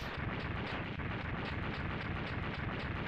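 Continuous dense explosion noise from the Mega Man X2 video game, a loud, steady roaring rumble with no pauses and no voices.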